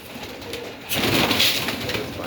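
A marble pigeon coos close by, a soft low throaty call rising partway through against light background noise.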